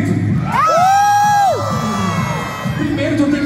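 Crowd at a live kids' music show shouting, cheering and whooping together, loud and sustained, with a rising high shout standing out near the start.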